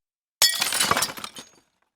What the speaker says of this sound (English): I used my elbow to shatter the window pane.